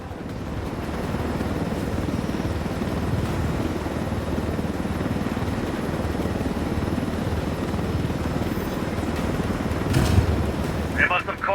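A helicopter in Ghost Recon Wildlands gives a steady, loud rotor drone throughout, with game dialogue spoken over it and a brief clank near the end.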